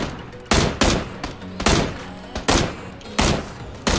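Gunfire in a first-person shooter video game: several loud, sharp bursts about a second apart, each trailing into a brief decay, with almost no talk over them.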